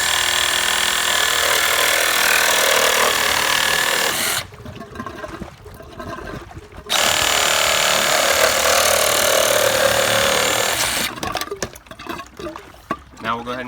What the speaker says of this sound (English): So we're going to take our Sawzall here.